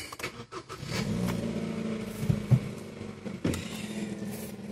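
A Kia Rio's engine cranks and starts close by, then settles into a running idle with a few light revs and a rising engine note.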